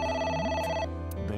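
A telephone in the video game AI: The Somnium Files rings with a bright, steady electronic trill that sounds loud and close, then cuts off partway through.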